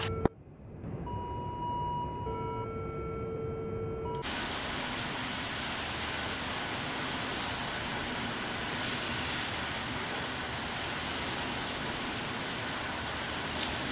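A jet aircraft in the DCS flight simulator roars in a steady, even drone for most of the stretch, with cockpit warning tones beeping briefly at the start before the engine noise fills in loudly.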